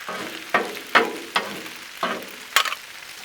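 Orange chicken fries on a Blackstone griddle, with five or six sharp spatula scrapes cutting through a steady sizzle at close range.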